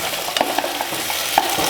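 Potatoes stirred and sautéed in a pan for a poori kurma, giving a soft, steady sizzle with a few light scraping stirs near the start and one sharper clink partway through, no voices.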